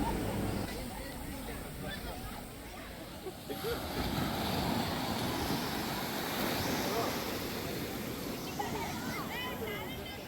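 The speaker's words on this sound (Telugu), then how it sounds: "ఇదే కాలాపత్తర్ బీచ్." Surf washing steadily along Kala Pathar Beach on Havelock Island, a continuous broadband roar with wind buffeting the microphone and a faint babble of a crowd in the background.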